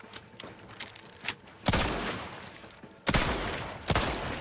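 Explosive-round gunfire in The Outer Worlds 2: a few scattered lighter shots, then heavy booming blasts with rumbling tails, loud and close.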